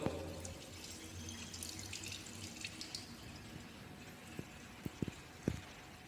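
Rice washing water runs and splashes steadily into a sink as it is poured out, with a few sharp drips and clinks near the end; no voices.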